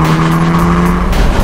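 An Audi TTS Roadster accelerates hard, its engine giving a loud, sustained tone close by with a slight rise in pitch, and no voices over it.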